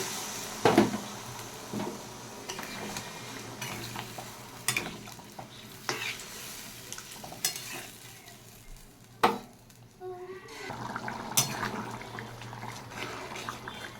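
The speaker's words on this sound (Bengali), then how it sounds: "মশলাটা ভালো কষানো হয়ে গেছে, দিয়ে দিচ্ছি জল।" Water goes into well-fried spice masala in a pan, producing a sputtering sizzle broken by sharp stirring and utensil knocks, with a bubbling burst later on and no voices.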